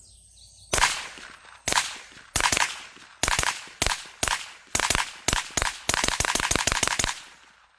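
A Springfield Armory Kuna with an Omega 9K suppressor fires from a position behind the shooter: about a dozen sharp, loud reports, first spaced singly, then a quicker closing string, with no talk.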